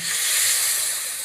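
A loud, continuous sizzling hiss as water is poured into a hot kadhai, holding steady for about a second before easing slightly.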